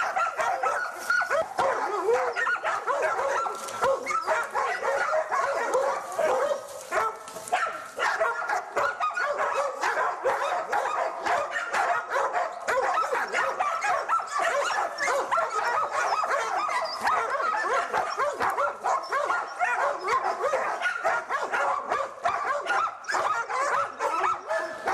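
A pack of hunting dogs barks continuously and excitedly while tracking a marten in the taiga, with overlapping yips, howls and whimpers forming a dense, loud chorus that runs throughout.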